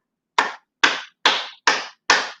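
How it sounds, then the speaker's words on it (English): Five sharp, close hand claps land one at a time at an even, unhurried pace, each a crisp smack in an otherwise silent room during a children's yoga and breathing session. "I'm going to give you a virtual clap."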